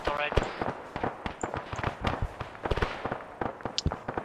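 Video-game gunfire aimed at a BTR armoured vehicle, rapid sharp cracks in irregular bursts at moderate distance, with a voice talking over the shooting.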